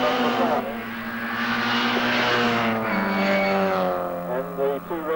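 Mini 7 race cars at Lydden circuit in 1987 sweep past with a rising then falling engine drone, their roar blending beneath continuous commentary from a nearby speaker.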